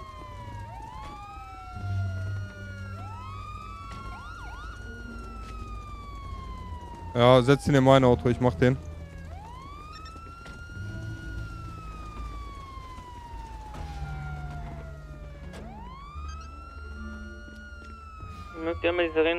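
A police car siren wails in repeated rising and falling sweeps for the whole stretch, with people talking in German beneath it and brief bursts of horn-like honking.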